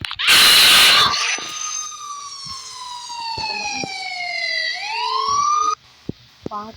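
A police siren from a Roblox cop game wails loudly in long, sweeping tones that slide downward and then rise again, following a short burst of harsh noise, and it cuts off abruptly near the end.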